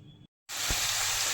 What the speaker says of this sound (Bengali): এখন আমি চিকেন কষা বসিয়ে দিয়েছি